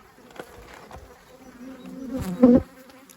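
A honeybee swarm buzzes close by at a beehive it has moved into in an apiary, a continuous drone that grows louder and ends in a brief, intense burst of buzzing.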